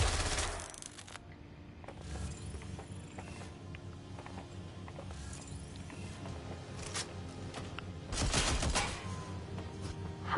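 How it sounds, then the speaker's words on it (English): Gunfire in the video game Watch Dogs: Legion: scattered shots and mechanical clicks over a low game backdrop, with two loud broadband bursts near the start and toward the end. "How haven't that person heard any gunshots?"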